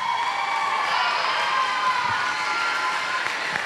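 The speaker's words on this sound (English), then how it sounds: "Give a round of applause for her." Crowd applause and cheering from a school international festival audience greeting a singer, a steady dense wash of clapping with whoops, loud and sustained without pause.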